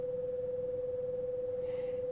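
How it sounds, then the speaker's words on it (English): Two pure sine tones a short interval apart combine into a steady electronic hum that pulses rapidly at about twenty beats per second, continuous and unchanging. "very fast beat pattern, 20 times per second"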